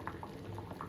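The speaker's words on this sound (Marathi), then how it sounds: "आणि बघा कसं उकळलं." Goat head boiling in a pot of water, a faint steady bubbling with small soft pops, brief and alone with no talk.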